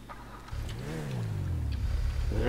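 A gold sports car in GTA 5 Online revs its engine once. The pitch climbs, then slides down into a steady, rumbling idle, close and fairly loud, with no talking.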